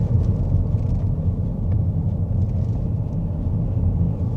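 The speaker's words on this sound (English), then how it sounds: "This is a bumpy road in some way." Steady low road rumble and drivetrain noise from inside a Leapmotor C10 range-extender hybrid SUV driving over a bumpy road, continuous and fairly loud with faint knocks, no talking.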